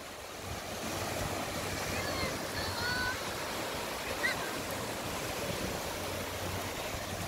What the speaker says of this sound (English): The wave's coming up fast.